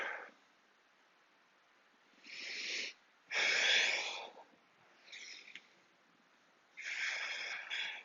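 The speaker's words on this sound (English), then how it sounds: "you should be able to hear your breathing" Heavy, breathy inhales and exhales during a TRX mobility workout come through close to the microphone, four or five loud wheezy breaths separated by short pauses.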